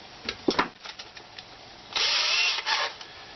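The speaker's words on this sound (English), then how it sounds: "So I'm going to use a 7/64 drill" A power drill with a 7/64 bit whirs in short bursts, drilling pilot holes for screws in a wooden stool: first a few brief jabs, then a longer sustained drilling run, close and fairly loud.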